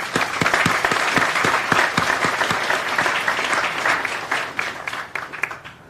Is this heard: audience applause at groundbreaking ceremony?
yes